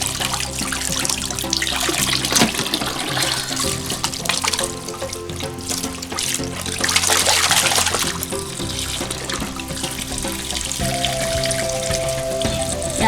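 Water runs steadily from a tap while fish is washed in an African village kitchen, a loud continuous splashing and trickling stream with shifting gurgles, close up and without voices.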